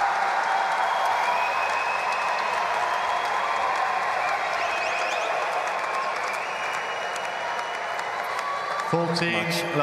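Sustained applause and cheering from a very pro-Greek tennis crowd at the 2024 United Cup, a dense steady roar across the whole stretch, with a commentator talking over it.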